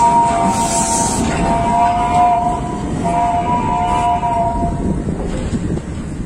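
An electric train on the Quilon miniature railway rumbles loudly and continuously nearby, with sustained horn-like tones sounding over the running noise for the first several seconds.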